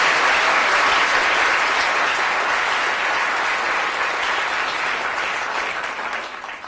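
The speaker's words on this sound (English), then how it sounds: "Give it a big round of applause." Loud, dense applause from an audience after a science demonstration about air and gases, a continuous wash of clapping that fades slightly toward the end.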